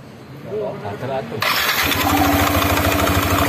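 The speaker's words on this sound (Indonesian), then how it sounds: "tinggal kita coba hidupkan. Hidupan starter." A Yamaha Nmax scooter undergoing CVT maintenance cranks on its electric starter and catches, settling into a loud, even, buzzing idle close by; someone speaks briefly just before it fires.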